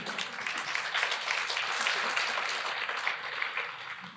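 Steady applause from an audience, a dense wash of clapping that holds evenly for a few seconds at moderate volume.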